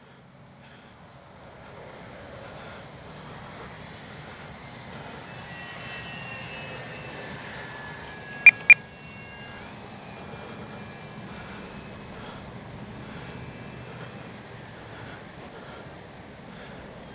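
An X-Fly Spitfire RC model warbird flies overhead, its motor a faint, distant whine that swells and fades across the sky, with two sharp clicks partway through.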